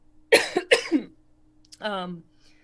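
Two quick close coughs in a row, followed after a pause by a short voiced sound.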